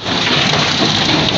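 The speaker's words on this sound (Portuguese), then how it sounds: "Ó, chuva de gelo." A heavy hailstorm of ice pellets pours down outdoors in Jundiaí, a dense, loud, continuous hiss and patter of falling ice with no pause and no voices.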